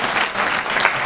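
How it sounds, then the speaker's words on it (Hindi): Loud, dense applause from an audience in a lecture hall at an Indian management and science institute fills the whole short burst, steady and close with no voices over it. "तो एक बार जोरदार तालियां।"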